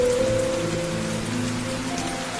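Rain falls steadily in an even wash of patter, with a low background hum running underneath.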